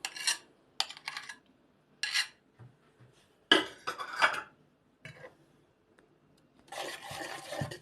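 A utensil mixes a dough of sugar, eggs, sour cream, vanilla and melted butter in a bowl, giving intermittent scraping and clinking bursts separated by short pauses, with a longer stretch of stirring at the end.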